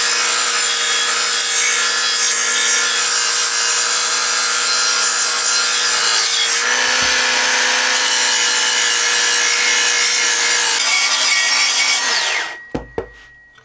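Smith's cordless electric sharpener running its abrasive belt against a knife blade, giving a loud, steady grinding whine that holds for about twelve seconds. The motor then cuts off, leaving a few faint knocks.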